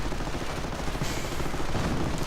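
An MG42 heavy machine gun fires in a World War II video game battle, a dense, continuous rattle of rapid shots, loud and close, running unbroken throughout.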